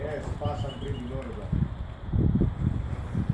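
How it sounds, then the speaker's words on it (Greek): Vouta pigeons coo near the start, then a burst of flapping and rustling follows as they arrive and land, with people's voices mixed in. "Ο Νίκος ήρθε να αγοράσει περιστέρια του Λάρισα."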